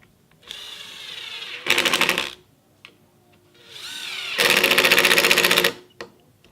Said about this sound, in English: We're just going to drive that home using the impact driver.